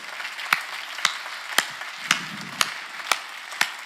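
Slow, evenly spaced clapping from a church congregation during a Korean sermon, about seven sharp unison claps roughly half a second apart, with faint murmuring between them.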